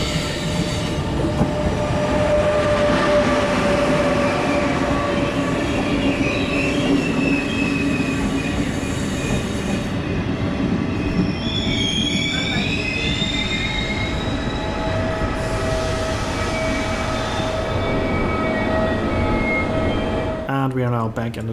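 Trenitalia regional train in Italy rolling steadily along the tracks, with continuous loud rumble, wheel squeal and high screeching tones throughout, and a brief clatter near the end; faint talk may sit under the noise.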